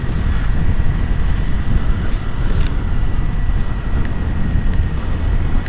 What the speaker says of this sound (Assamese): অলপ বতাহ দি আছে আজি